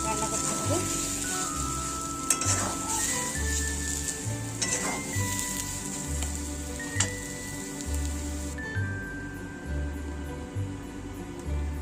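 Steady sizzling of lentils frying dry in a pan, with occasional scraping and clinks of stirring, and a low hum underneath.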